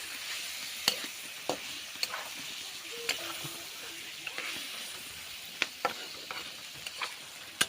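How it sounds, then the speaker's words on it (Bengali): Chicken pieces being stir-fried (kosha) in a pan hiss with a soft, even sizzle, punctuated by sharp utensil scrapes and knocks at irregular intervals. "এখানে চলছে মাংস রান্না মাংস কষা"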